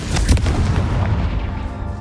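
A Confringo fire spell bursts in the Hogwarts Legacy video game, a loud, close booming explosion with a heavy low rumble that rolls out and fades over about two seconds.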